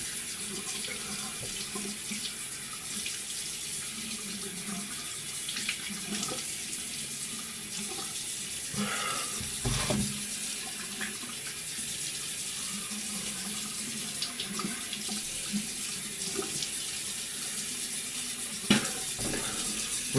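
Water runs steadily from a bathroom sink tap while a razor is rinsed after a shave, a continuous splashing flow with a few brief louder clinks and splashes, no talking.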